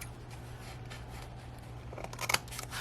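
Paper is trimmed with scissors while decorating a February junk journal, giving a few quiet snips and rustles over a steady low hum, with a sharper cluster of cuts near the end.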